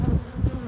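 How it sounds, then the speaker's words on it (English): Close, steady buzzing of Sazkatraz honey bees around a mated queen, a low droning hum with slight swells, continuous throughout with no voices. "these are Sazkatraz bees"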